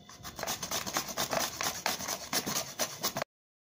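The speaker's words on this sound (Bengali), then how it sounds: "বিটগুলো আমি এখন খোসা ছাড়িয়ে ভালো করে ধুয়ে নিয়েছি, এখন আমি ঘষে নেব।" Peeled beetroot is rubbed against a kitchen grater in quick repeated strokes, a close, rhythmic rasping that runs for about three seconds and then stops.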